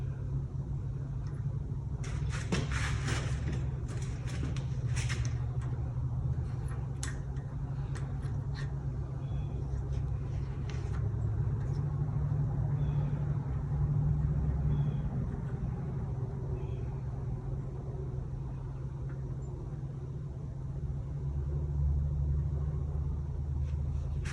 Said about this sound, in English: I just pulled the pull start to get it to turn